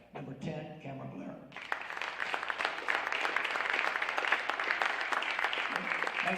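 Crowd applause for a high school football quarterback, a four-year veteran, at a team awards ceremony; after a brief stretch of speech, steady dense clapping swells and continues to the end.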